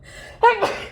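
A single short sneeze bursts out close by, a sharp intake followed by a quick explosive release lasting under a second, in a quiet indoor kitchen.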